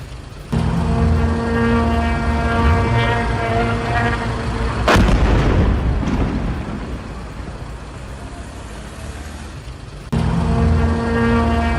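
Russian strike on a Ukrainian army position, a loud close blast with a sharp onset over a continuous rumbling engine-like drone, the roar easing off before the drone returns.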